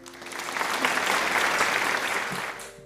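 A short burst of applause from a small audience at a podcast recording, steady clapping that swells and fades over a few seconds, close and fairly loud, with no speech over it.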